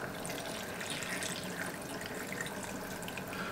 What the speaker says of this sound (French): on va venir verser de l'eau de cuisson des haricots à hauteur